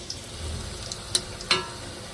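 Potato chops frying in hot oil, a steady close-up sizzle with a couple of sharp pops and crackles, no voices over it.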